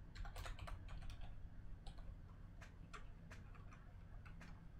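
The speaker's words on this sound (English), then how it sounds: "Let me just type that in real quick." Quick bursts of typing on a computer keyboard, soft and close, with a few irregular clusters of key clicks over a quiet background hum and no talking.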